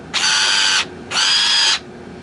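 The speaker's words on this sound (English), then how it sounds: "It's my automatic wire crimper." A homemade automatic wire crimper built from a Black & Decker trimmer gives two short, loud, high-pitched motor whines, each lasting under a second, separated by a brief pause.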